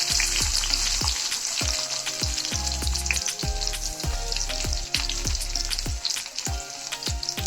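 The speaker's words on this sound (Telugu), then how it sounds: "ఉల్లిపాయలు గోల్డెన్ బ్రౌన్ కలర్ వచ్చే వరకు వేపుకోవాలి." Onions fry in hot oil with spluttering mustard-type seeds and curry leaves for a fried rice dish. The sizzle is dense and continuous, with frequent sharp crackles and pops, close up and with no talking.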